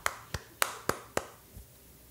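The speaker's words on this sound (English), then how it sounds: "Yes, I'm applauding myself." Five sharp claps or snaps in an uneven rhythm, then a softer sixth, crisp and close, as a person applauds themselves while playing Amnesia: Rebirth.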